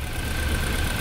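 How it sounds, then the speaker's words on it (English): Steady, close idle of a BMW X3 with the N20 engine, which has multiple misfires, a continuous low rumble holding even through the moment with no talk. "Let me shut off this car."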